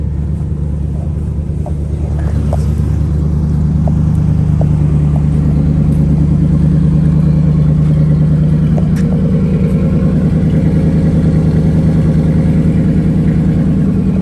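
A Ford 390 V8 in a 1966 Ford Thunderbird idles steadily up close after a cold start, a deep rumbling exhaust note throbbing evenly without pause.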